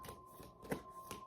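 Tarot cards shuffled and pulled from a deck, a few soft papery riffles and flicks close by at low volume, with one louder snap in the middle.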